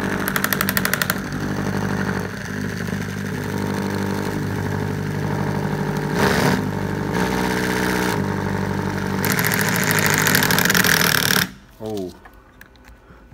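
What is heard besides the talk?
combined alternator and brushless motor running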